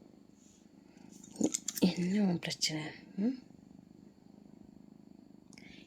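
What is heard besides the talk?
cat purring on a lap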